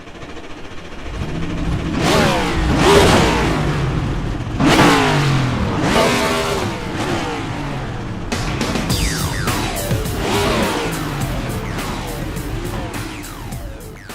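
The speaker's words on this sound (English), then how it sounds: "Drivers, start your engines!" Several NASCAR race car engines at Richmond Raceway in iRacing fire up and rev repeatedly, loud overlapping roars rising and falling in bursts, with a continuous engine drone underneath.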